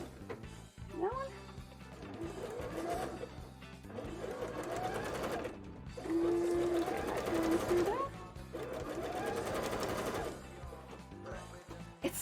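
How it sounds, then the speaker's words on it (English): A sewing machine stitches a bra in several rapid bursts of dense mechanical whirring, stopping and starting between runs, close up, with a cat meowing briefly in the background. "It's so difficult to sew this in a straight line"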